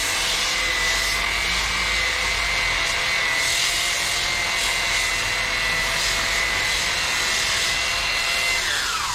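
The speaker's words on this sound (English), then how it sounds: "let me get back into sanding and getting dirty" A power sander grinds paint off a fiberglass boat hull down to the filler, giving a loud, steady, unbroken whine with a constant high motor tone close by for the whole stretch, with no voices.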